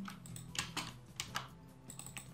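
Quick, uneven keystrokes clatter on a computer keyboard as someone copies code, a close, steady run of light clicks with brief pauses and no talk.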